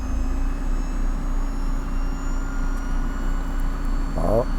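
A Mercedes R129 300SL engine idles smoothly after a fuel distributor repair, a steady close drone with a faint whine, and a brief chirp near the end.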